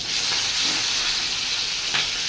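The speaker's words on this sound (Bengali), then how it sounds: "চিকেন ভাজা হচ্ছে হালকা করে" Chicken pieces fry lightly in a pan, giving a soft, even sizzle and hiss throughout, with a faint stir or two and no speech.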